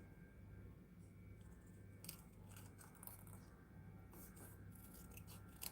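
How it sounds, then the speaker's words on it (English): Paper being fussy cut with scissors for an art journal page, a faint, quiet snipping that repeats softly over a steady low background hum, with no talking. "I'll just continue fussy cutting this"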